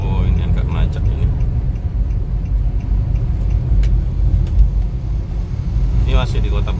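Congested traffic on the Pantura road in Pasuruan rumbles as a steady low engine drone heard from inside a moving vehicle, with passing cars and occasional louder bursts, and a person talks over it.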